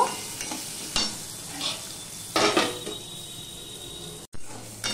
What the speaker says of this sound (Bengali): আলুটাও ঢাকা দিয়ে দিয়ে ভেজে নেব।